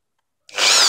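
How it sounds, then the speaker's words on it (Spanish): A power drill with a 7 mm bit starts abruptly after a moment of silence and bores into a telescopic window-cleaning pole, giving a loud, steady high whir. "Ahora coge tu taladro y una broca del 7."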